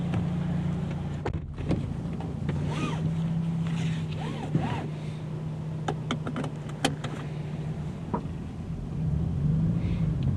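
A Toyota GRMN86 driving on the Hakone Skyline road gives a steady low engine drone and road rumble from inside the cabin, with occasional clicks and brief tonal chirps over the top.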